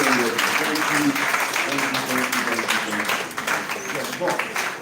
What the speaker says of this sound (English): Let's give everyone a clap as we get our program ready.